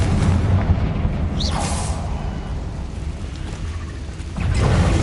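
Confringo blasting spell cast in the game Hogwarts Legacy: a sustained booming rumble with a rising whoosh near the start and a fresh surge of blast noise near the end, loud throughout.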